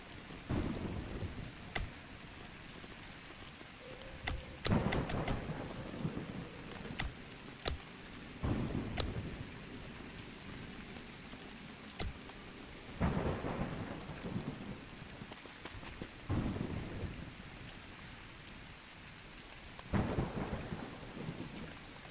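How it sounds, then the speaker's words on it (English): Rain falls steadily in the survival game Soulmask while thunder cracks and rumbles at irregular intervals, a soft continuous patter punctuated by several sharp, fairly distant strikes with no voices. "Amazing, it started raining."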